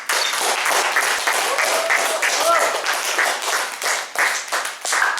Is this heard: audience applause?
yes